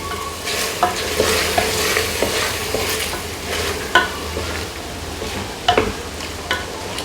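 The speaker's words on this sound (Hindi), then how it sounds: "अब इसको मैं अच्छे से भून लूँगी।" Beef being stirred and fried with garam masala powder for daleem, a steady sizzle in the pan with repeated spoon scrapes and knocks, close and fairly loud, no talking.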